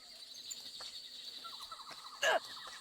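Birds in Metal Gear Solid chirp and twitter faintly over a steady high ambient hiss, with one brief louder burst of bird calls toward the end.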